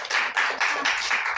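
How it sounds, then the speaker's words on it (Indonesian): A classroom group claps hands in a microteaching lesson, a dense burst of applause sustained and close for the whole moment, with no talk over it. "Tepuk tangan dulu dong."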